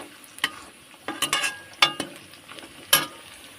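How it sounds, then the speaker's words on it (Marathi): A sliced onion fries in hot oil for biryani, giving sparse, uneven crackles and spits over a soft, steady sizzle, close by and with no voices. "याच्यामध्ये एक कांदा परत मी टाकून घेतले"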